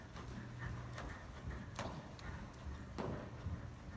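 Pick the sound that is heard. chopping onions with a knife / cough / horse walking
horse walking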